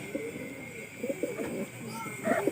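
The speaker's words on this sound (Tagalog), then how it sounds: "Ay yung parents, mga kalapatids." Pigeons coo in a loft with a golden bird and blue bar and blue check birds, soft repeated low coos in several short bouts, fairly close, over a faint background hum.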